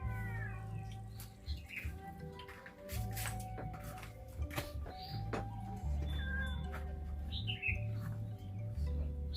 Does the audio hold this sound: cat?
yes